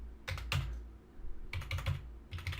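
Short bursts of keystrokes on a computer keyboard as a phone number is typed, three quick clusters of close, crisp clicks separated by brief pauses.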